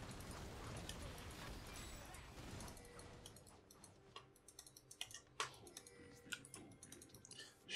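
Computer keyboard keys are tapped in uneven bursts during a League of Online match, faint clicks up close that sit under steady game sound, with a voice speaking in the background.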